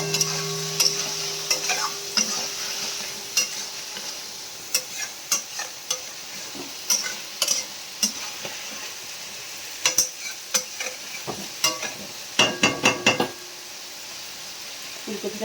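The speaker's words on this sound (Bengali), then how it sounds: "হয়ে গেছে মশলা কষা, আর একটু কষবো" Spice paste is stir-fried in a pan during home cooking, with a soft sizzle beneath repeated sharp scrapes and taps of a spatula, clustering into quick bursts near the end.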